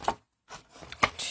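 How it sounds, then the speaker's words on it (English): Scissors cutting card stock along a score line while making a twisted easel card. A few separate crisp snips and rubbing cuts come up close, with a short pause between them and no speech. "use your scissors and cut on the inside of that score line all the way down"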